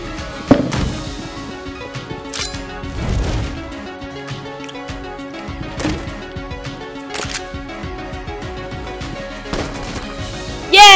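Sharp game gunfire bursts from a bullet-shaped gun that fires guns in Enter the Gungeon, with irregular cracks and pops scattered over a bed of ringing game music and chimes.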